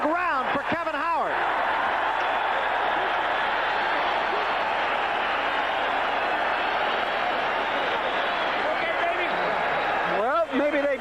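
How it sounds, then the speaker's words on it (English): Boxing arena crowd roaring and cheering continuously during a Ray Leonard versus Kevin Howard fight, a loud, dense wall of voices sustained throughout, with commentators' speech at the start and end. "This crowd is really alive"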